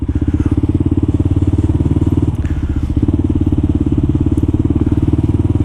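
A Kawasaki KLR 650 motorcycle rumbles steadily and loudly up close while riding slowly through city traffic between Harlem and Long Island City.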